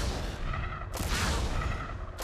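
Crimsonland top-down shooter: bursts of gunfire against swarming monsters, a sharp volley near the middle and another at the end over a low rumbling bed, fairly quiet.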